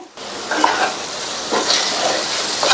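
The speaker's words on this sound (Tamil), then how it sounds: "ஒரு பெரிய கேப்சிகத்தை கியூப்ஸா கட் பண்ணி இதுல சேர்த்துட்டு" Capsicum cubes stirred into masala in a hot pan, giving a steady sizzle with a few scraping stirs close up, no talking.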